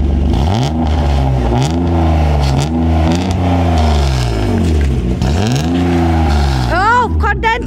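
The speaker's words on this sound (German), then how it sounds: "Auf jeden Fall startet der Motor." A BMW E30 fitted with a 323ti engine and a custom one-off exhaust starts and revs repeatedly, loud and close, with rising and falling engine swells throughout and a sharp rev at the end.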